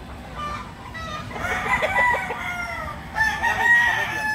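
A tukong gamecock clucks and then crows twice in short bursts, fairly close and loud over a quiet background.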